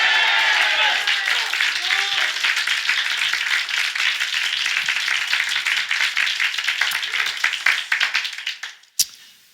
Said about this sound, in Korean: 크게 아멘 하면서 박수하겠습니다